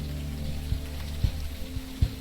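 Steady rain falls in the video game Unavowed, a constant soft patter with a few louder low thuds scattered through, no talking.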